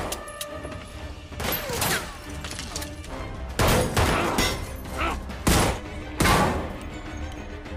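Gunfire in a movie shootout scene where a robber opens fire: several loud, heavy gunshot bursts land at uneven intervals over a dense, rumbling action soundtrack.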